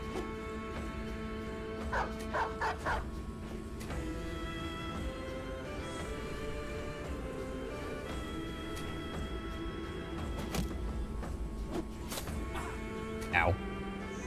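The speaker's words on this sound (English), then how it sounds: "A lot of these are dogs too, actually." Dogs bark and yip in the fantasy battle game Battle Brothers, short bursts of barking scattered through steady in-game combat noise, with a player's voice talking over the mix.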